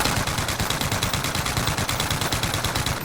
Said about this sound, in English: So if we just go here and we're going to shoot our gun